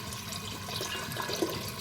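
Eucalyptus hydrosol trickles and drips steadily from a still with a faint splashy hiss, quiet and close, no voices.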